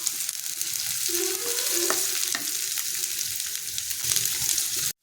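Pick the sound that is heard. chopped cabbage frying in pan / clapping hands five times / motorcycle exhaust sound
chopped cabbage frying in pan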